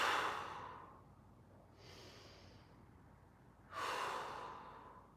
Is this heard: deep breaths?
yes